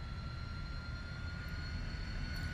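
A T-33 jet engine spooling up during a cold-and-dark start in a flight simulator gives a steady, loud, dense roar with high whining tones held throughout, and no voices.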